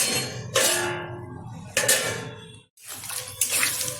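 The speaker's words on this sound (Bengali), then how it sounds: "এখন দিয়ে দিচ্ছি পরিমাণ মতো জল।" Water poured into a cooking pan of melted sugar for pineapple chutney: splashing, gushing pours come in several bursts with short pauses between them, close and fairly loud, with no talking.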